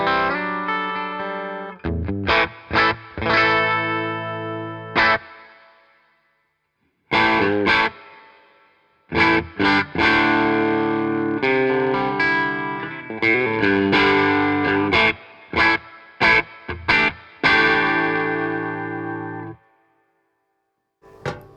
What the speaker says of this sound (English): Here's the Nextone on its own.